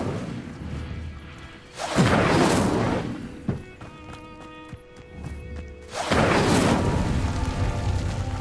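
Spell casts in the Hogwarts Legacy video game, with Incendio fire bursts: two loud whooshing, roaring blasts a few seconds apart, separated by quieter chiming and clicking game sounds, with no talk.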